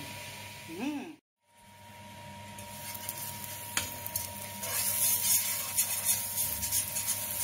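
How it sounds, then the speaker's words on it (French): Crêpe batter frying in a buttered pan, a steady soft sizzle and hiss running throughout, close and fairly quiet, with brief scraping or stirring touches and a short gap near the start. "Une fois la pâte mise dans la poêle, laissez dorer légèrement."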